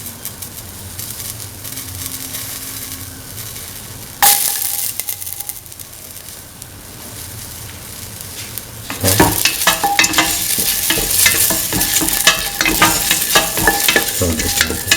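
Garlic fries in an oiled pan and is stirred, a steady sizzle that jumps louder midway and then grows into a busy crackling hiss with scraping, close and with no talk.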